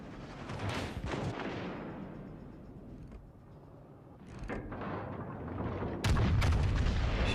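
Battleship naval gunfire in the video game World of Warships: Legends, heavy booming salvos and rumbling blasts rising and fading, with a loud burst of shots near the end and no talk.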